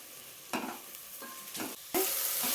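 Salted ingredients for rice bath fry in a hot pan with a close, steady sizzle, punctuated by a few soft stirring scrapes before the frying surges louder near the end.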